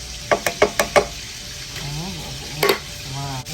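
Peeled tomatoes and other ingredients go into a hot kawali and sizzle, with a quick series of sharp knocks and stirring sounds, a faint hiss between them, and brief talk.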